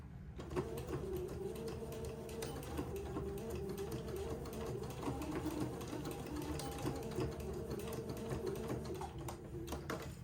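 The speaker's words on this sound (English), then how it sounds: "So I'm going to sew the other one, tack lock it into place." A sewing machine tack-locks a seam on plaid button-on bloomers. Its rapid, steady mechanical stitching chatter runs continuously and quietly for about ten seconds, with no talking.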